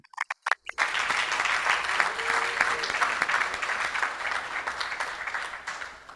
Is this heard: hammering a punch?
no